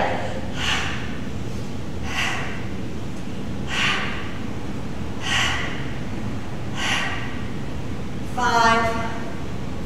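Forceful exhales during a mobility workout repeat at a steady rhythm about every second and a half, six close, breathy puffs, the last one rougher and longer.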